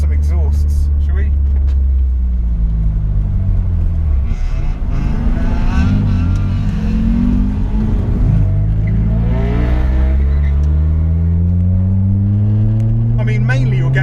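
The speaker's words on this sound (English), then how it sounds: "let's listen to some exhausts, shall we?" A car exhaust on the road rises and falls as the engine revs up and drops through gear changes with a hybrid racing short shifter, loud and close throughout, with someone speaking over it.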